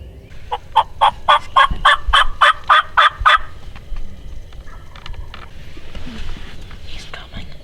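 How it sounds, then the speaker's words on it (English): A wild turkey gobbles during a junior-day spring hunt in Pennsylvania. Around nine sharp, loud rattling pulses come in quick succession, then fade into quiet outdoor ambience with faint whispering. "But he's gobbling this morning."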